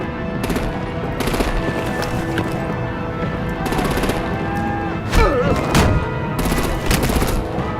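Rapid machine-gun bursts and gunfire crackle in repeated volleys during an action scene in the game Batman: The Enemy Within, with a couple of heavier thuds and voices shouting in between.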